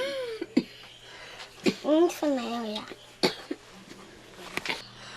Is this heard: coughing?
yes